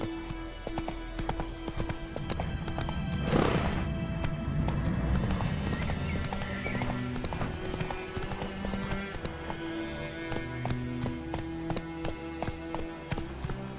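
Hooves of the horse Roach galloping in The Witcher 3 game, a steady fast clip-clop close up, with a brief neigh early on and game music underneath.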